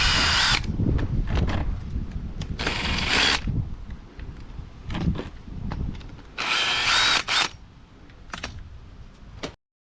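A cordless power tool undoes identical bolts on a Makita DUR181 string trimmer, whirring loudly in several separate close bursts with rattling pauses between them, then stopping abruptly.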